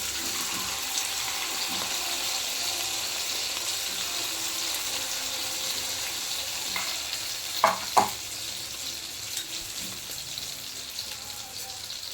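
Idli batter pakoras frying in hot oil give a steady, moderately loud sizzle throughout, with a couple of brief clinks or stirring knocks near the middle and no talking.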